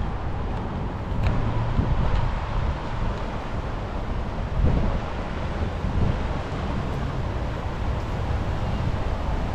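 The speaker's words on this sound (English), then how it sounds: "Here's the Weir." Water pours over a weir on the River Kennet near County Lock in Reading, a steady broad rushing roar mixed with wind buffeting the microphone, constant and fairly close.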